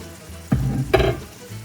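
One-pot tuna pasta cooks in a covered pot, giving a brief, close sizzling bubble that swells twice.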